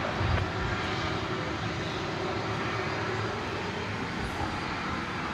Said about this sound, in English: That Airbus A319 is that you see there is off to Lubbock.